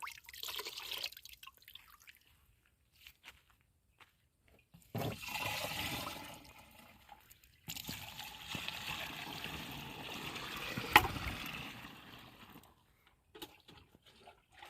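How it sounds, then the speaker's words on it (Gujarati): Pesticide mixture poured into a farm sprayer pump tank for a cumin crop, close splashing and streaming liquid in uneven spells with drips between pours, moderately loud. "તો મંગળ આપણે પંપ ભરે છે ને દવા આપણે ચારે દવા ભેગી બનાવી નાખી હતી"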